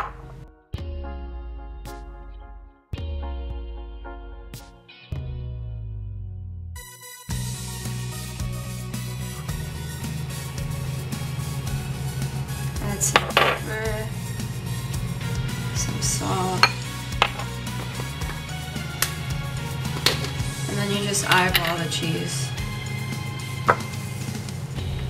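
Food for a college meal prep gets mixed in a bowl: several sharp clanks open it, then a continuous close scraping and stirring churn runs on with occasional knocks.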